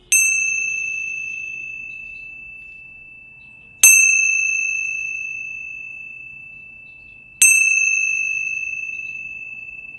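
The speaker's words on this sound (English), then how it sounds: "we like to close our time together with the ringing of the bells" Three clear, bright bell strikes spaced a few seconds apart, each ringing out with a long, slowly fading sustained tone in an otherwise quiet room.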